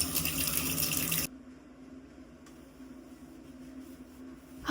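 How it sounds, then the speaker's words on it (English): Tap water runs hard into a sink to rinse out bleach, a loud rushing gush that cuts off after about a second, leaving a quiet room hiss. "Now I'm gonna rinse the bleach out again."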